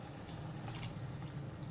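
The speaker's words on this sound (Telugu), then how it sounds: "ఈ కలుపుకున్న గిన్నెలోనే కొన్ని నీళ్ళు పోసుకొని ఇట్లా కడుక్కొని అయితే పోసుకోవాలి" Water poured into a used mixing bowl to rinse it out during gongura chicken cooking, a soft steady trickle and splash running throughout, close by with no talk.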